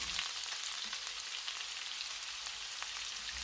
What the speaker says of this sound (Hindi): 2 छोटे साइज़ के स्लाइस किए हुए प्याज हम ऑयल में शामिल कर लेंगे